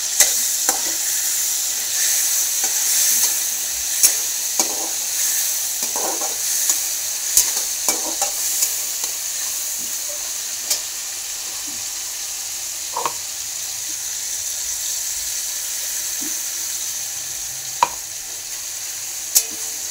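A paste of garlic, coriander, green chili and cumin fries in a pan with a steady, bright sizzle, broken by scattered scraping and tapping knocks as it is stirred.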